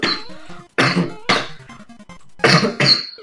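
A person coughs in four or five harsh, close bursts with short gaps, some sounding like rough throat clearing.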